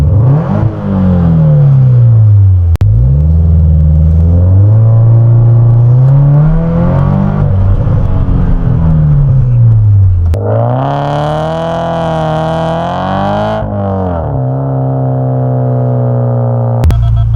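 A Subaru BRZ engine with a Stage 2 tune, equal-length header, E85 fuel and Invidia N1 exhaust drones loudly and steadily, repeatedly climbing in pitch then dropping back, with one higher, harsher surge near the end.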